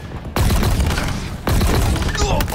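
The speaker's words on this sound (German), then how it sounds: "Ah, irgendjemand schießt auf mich." Loud bursts of gunfire from the multiplayer shooter Halo Infinite, two heavy broadband volleys about a second apart, each sustained and booming, close and alone with no talking.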